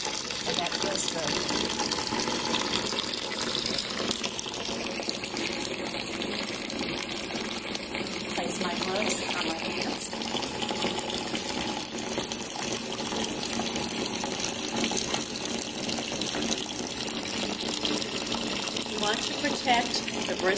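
Tepid tap water runs steadily from a faucet into a sink, a continuous broadband gush that holds level from start to finish, with some voice underneath.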